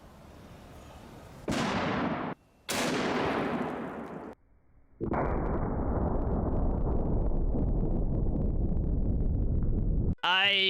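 A .50 caliber rifle fires its first test shot, followed by loud, sustained blasts and roaring wind-like noise, broken by brief gaps, close to the microphone.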